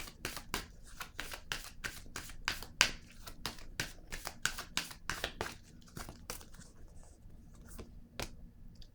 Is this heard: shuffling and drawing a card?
yes